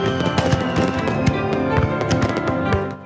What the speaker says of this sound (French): Des centaines de feux d'artifice tirés à Lima, la capitale du Pérou, pour le passage à la nouvelle année.